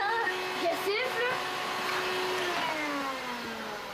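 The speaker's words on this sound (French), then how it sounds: "Mais pourquoi tu passes l'aspirateur, là?" A household vacuum cleaner runs with a steady, whining drone while voices talk over it close by.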